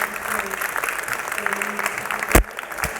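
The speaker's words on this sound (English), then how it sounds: "Now I think that deserves a real round of applause for our QSF members." Audience applause at a conference session, a steady round of clapping from a room of people, moderately loud and continuous, broken by a sharp bump or knock near the end.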